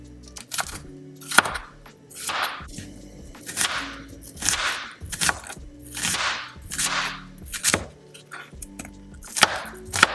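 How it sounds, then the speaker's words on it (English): A knife chops vegetables on a cutting board for meal prep, each stroke a loud close thwack followed by a whooshing slide, repeating at a steady pace of about one every second, with no talking. "I'm heating my oil up while I chop to save some time"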